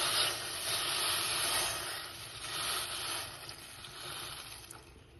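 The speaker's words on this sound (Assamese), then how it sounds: "বইল হৈ যোৱা পৰ্কখিনি কাঢ়ি লৈ বেলেগ এটা বাচনত লৈ ললো আৰু সেই তাতে অলপমান গৰম পানী দি ভালকৈ উতলিব দিলো" Pork boils in a pot of hot water, a steady close hiss and bubbling roar that swells and eases slightly throughout, with no voices.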